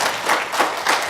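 Applause from a seminar audience at a health lecture, a broad steady clapping wash with rhythmic swells, fairly close and moderately loud, alone without talk.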